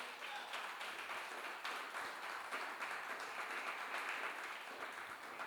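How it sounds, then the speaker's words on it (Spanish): A church congregation claps in praise during a sermon, a steady wash of applause heard faint and distant, continuing evenly without a break. "Dele una alabanza de aplauso a Cristo"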